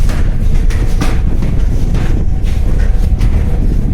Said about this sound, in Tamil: மேலே போனோம்னா பயங்கர காற்றடிக்குது.